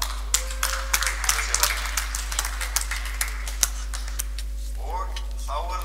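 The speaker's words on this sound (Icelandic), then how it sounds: "Gefum gott klapp." Audience applause at a judo tournament award ceremony, a scattered patter of claps continuing for several seconds, with a low constant hum underneath.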